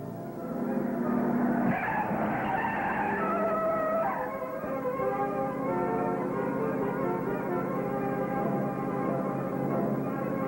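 Radio-drama car sound effect: an engine revving and driving steadily with a brief tire skid early on, loud and close, continuing as a sustained motor drone.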